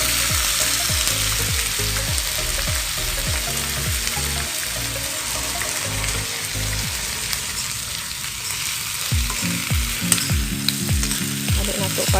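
Shrimp sautéing with Sprite in a hot pan, a loud steady sizzle throughout with repeated scraping stirs and clanks of the utensil against the pan.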